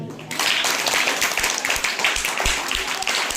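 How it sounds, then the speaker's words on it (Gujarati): A group applauds during a school math-day quiz, and steady clapping fills the room. The sound runs from just after the start to the end at an even, moderately loud level, with no speech over it. "બ્રહ્મગુપ્ત માટે તાળી રહી છે"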